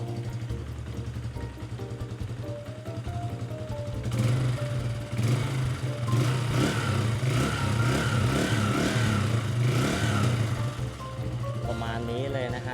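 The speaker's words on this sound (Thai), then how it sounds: "ท่อนุ่มๆพอๆเลยนะ เจ้าคันนี้นะครับ" A 2016 Stallion Centaur 150 classic motorcycle with 18,000 km on it idles and then revs, a steady low engine and exhaust thrum that grows fuller partway through, with someone talking over it.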